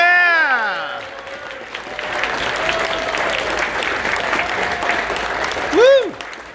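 Rousing applause and cheering from the crowd at a Sarasota event, a dense, steady wash of clapping that swells after a voice fades out and carries on for several seconds, with a loud whoop near the end.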